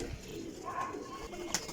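Flying pigeons, a golden cross breed kept in a loft, giving a soft brief coo over a low, murky background, faint and close.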